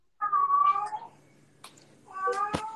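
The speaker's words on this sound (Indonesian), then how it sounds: "Ada kucing." A cat meows twice indoors, two loud drawn-out calls close by separated by a brief pause, with faint room noise between.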